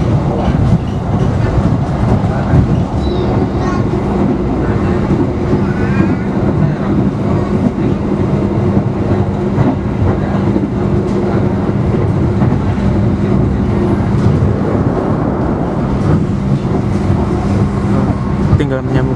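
Argo Lawu passenger train running fast on the Jogja–Kutoarjo line, a loud steady roar of wheels and rail with rhythmic clatter and wind noise that persists throughout, with no talking heard over it.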